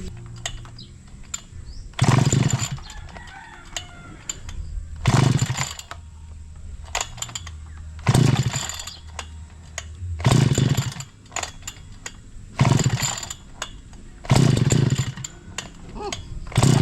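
Chainsaw engine warming up outdoors after sitting unused a long time: a steady idle broken by six loud revving bursts at regular intervals, close to the listener.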